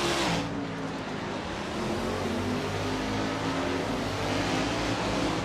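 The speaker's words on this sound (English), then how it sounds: "The formation lap is underway as the safety car leads the drivers out through the first lap." Several 1989 Camaro Z28 IMSA GTO race cars on the formation lap at Darlington, their engines a continuous roar that swells slightly as the pack moves, with no voices over it.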